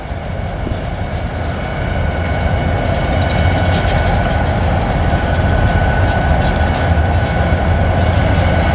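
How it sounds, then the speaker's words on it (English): A loud, continuous rumble of a long freight train passing nearby in Sioux Falls, South Dakota, with rolling wheel noise and a constant roar that swells slightly and holds steady. "Happen to see there's a train coming here."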